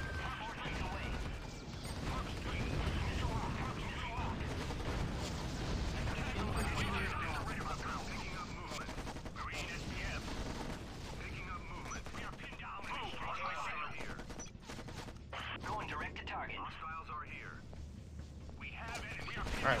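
Artillery and gunfire from the Act of War: Direct Action strategy game: a sustained, dense battle din of booms and shots running throughout, with a voice talking over it.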